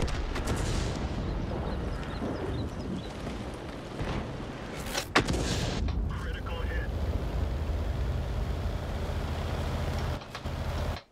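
Video game gunfire and explosions roar in a dense, continuous barrage with occasional sharper blasts, under a player's voice speaking now and then.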